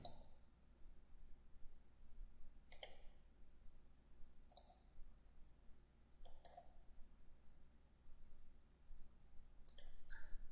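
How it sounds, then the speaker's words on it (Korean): Computer mouse right-clicking in CAD modeling software, six crisp separate clicks spaced one to two seconds apart, close and clear over a faint quiet background. "라이트 클릭, 언체크 가시성."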